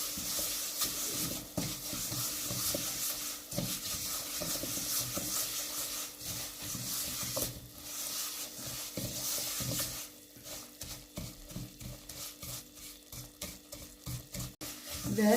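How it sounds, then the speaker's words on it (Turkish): Two spoonfuls of flour roasting in a pot for a quick soup, a soft continuous sizzle under frequent scraping and stirring strokes of a spoon, close and steady. "2 kaşık yemek kaşığıyla 2 kaşık unumu da koyuyorum. Ki unun da kokusu çıkana kadar güzelce kavrulmalı."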